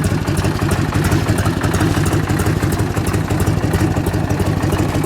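A 1978 Harley-Davidson FLH 75th anniversary edition motorcycle sits idling, its engine giving a steady, loud, close low rumble with rhythmic lumpy pulses and mechanical clatter throughout, with no voices.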